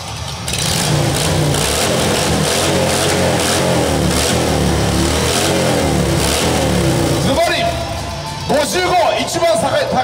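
A Cool Breaker 2010 ride-in show motorcycle engine revs loudly and rises in pitch, with a rough mechanical roar throughout and voices talking over it near the end.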